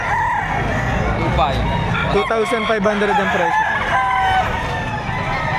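A rooster crows at a busy chicken market in Batangas, its call rising briefly over constant crowd chatter and clucking; people talk and haggle throughout.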